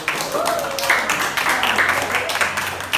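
Classroom of pupils clapping together in a steady, dense patter that fills the room, with children's voices and chatter mixed in throughout.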